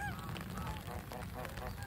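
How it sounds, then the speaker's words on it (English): Geese honk in a loose, overlapping series at a pond's edge, faint and somewhat distant over a low outdoor rumble, with ducks nearby. "Two geese. Two more ducks coming in."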